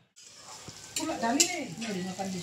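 Onions frying in a pan give a steady close sizzle with stirring scrapes and clatter, and no one talks over it.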